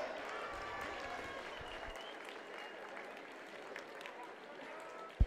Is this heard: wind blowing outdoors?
no